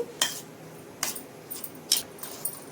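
A spoon mashes roasted brinjal into a paste, making three or four light metallic clinks and scrapes against a bowl, close and quiet with no voices.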